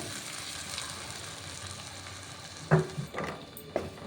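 A turmeric spice gravy for cauliflower dal sizzling gently in a pan, a soft continuous frying hiss broken by a few sharp stirring knocks near the end.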